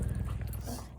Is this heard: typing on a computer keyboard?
no